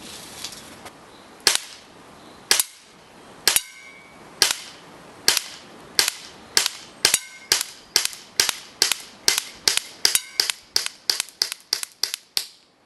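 An Umarex Racegun CO2 pistol fires BBs at a target in a run of about twenty sharp, loud pops, spaced widely at first and then coming faster and evenly, with no talking.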